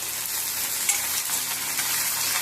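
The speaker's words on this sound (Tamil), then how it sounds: "இப்போ முதல்ல வெங்காயம் போட்டுக்கலாம்" Onions sizzle in hot oil with asafoetida for a Nellore-style bitter gourd pachadi, giving a loud, steady, close frying hiss with faint stirring underneath and no talk.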